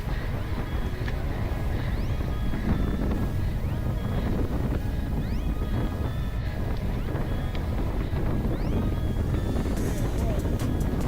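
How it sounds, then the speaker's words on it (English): Strong wind buffets the microphone with a constant loud roar and rumble throughout, with a voice partly audible beneath it. "When I say windy, I mean it is windy and it's cold."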